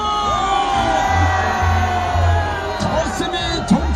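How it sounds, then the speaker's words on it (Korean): A packed crowd of party members at an outdoor political rally launching a leadership campaign cheers and shouts continuously, with whoops and yells rising over a dense roar and a low chanting pulse. "여러분 다시 한번 우리 윤상현에게 힘찬 환호의 함성을 보내주십시오."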